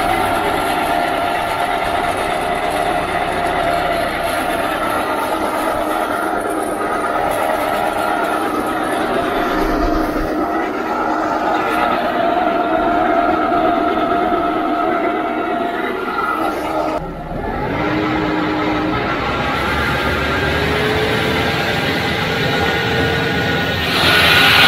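A Buffalo Turbine debris blower runs with a loud, steady, continuous roar that barely wavers, dipping for a moment partway through.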